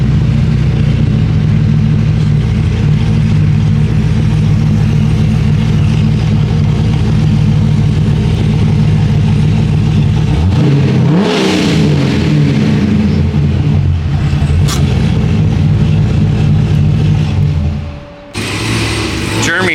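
A Corvette's engine idles steadily as it rolls onto a dyno, then revs with a rising sweep near the midpoint before settling back, loud and close, with people talking over it.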